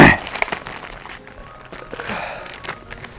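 Plastic packaging around human hair bundles is cut open and handled, producing crinkling and rustling with a few sharp snips, close up and intermittent, while someone talks.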